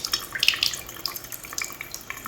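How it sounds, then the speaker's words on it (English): Water runs steadily from an outdoor sink faucet on an organic farm restaurant in Los Cabos, a close, splashy, trickling flow with no talking. "So you turn on the faucet here. The water starts to come out up at the top."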